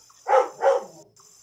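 A dog barks twice in quick succession, fairly close, over a faint steady high hiss.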